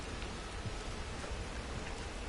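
Heavy rain pours in Red Dead Online, a dense, steady broadband hiss with scattered drop impacts, loud and enveloping with no voices.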